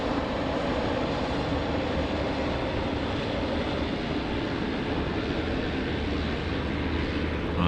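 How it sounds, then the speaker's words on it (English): Pilatus PC-12 turboprop in Microsoft Flight Simulator gives a loud, steady engine drone with broadband rushing noise, unbroken for the whole stretch and with no talking. "Oh, a little PC-12."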